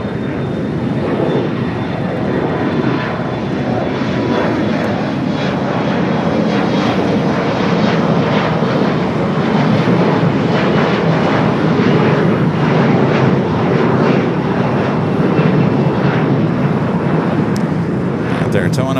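An airliner powers up for takeoff on runway 25 right at LAX, its loud engine roar rising and filling the scene from a distance, while tower radio calls and a voice carry over it.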